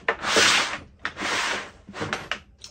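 Plastic case of a Milwaukee 18-volt hole punch being handled and opened, with three bursts of rubbing, scraping and clicking latches, close and fairly loud, no talk.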